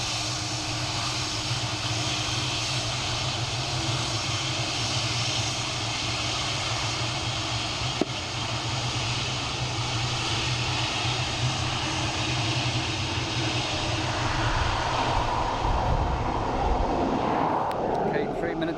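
A Turkish Airlines Boeing 737 on approach to Dublin Airport, below 2,000 feet, sends a loud, steady jet engine roar across the whole stretch, slowly swelling toward the end, heard from an outdoor spotting position.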